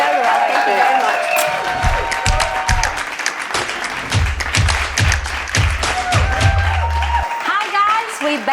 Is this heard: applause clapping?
yes